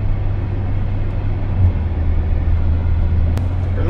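A 2021 Mercedes-AMG G63 driving in sport mode, heard from inside as a steady, loud, low engine and road drone with a faint tick near the end.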